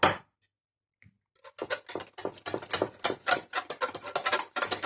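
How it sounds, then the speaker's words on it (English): Smoked haddock stirred into a strong tandoori yoghurt marinade in a bowl: after a brief near-silence, close, rapid wet squelches and light clinks repeat in an uneven rhythm. "Then we're just going to mix it together."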